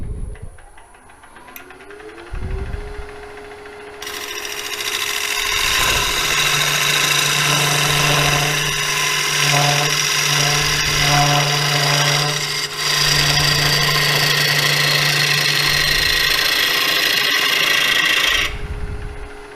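A chisel cutting into a spinning log on a wood lathe while a bowl rim is formed: a sustained rasping, vibrating cut with a steady motor hum that starts after a few seconds and stops near the end, no talk.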